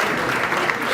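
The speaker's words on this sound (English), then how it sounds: "keep encouraging the newly inducted members with a big round of applause" Audience applause at an Independence Day celebration greets newly inducted Interact Club members. It is a brief, dense burst of many hands clapping at once, loud and steady.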